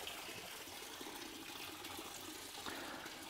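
Cloudy, milky fluid drains from a Porsche 996 into a bucket, a continuous splashing, trickling pour heard close and steady for a few seconds.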